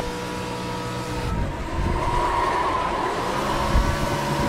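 Lamborghini Super Trofeo race car engine held at the rev limiter in iRacing, a steady, loud, droning buzz with a slight rise in intensity partway through and no talking.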